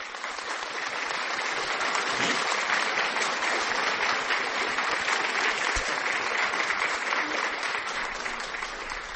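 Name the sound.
clapping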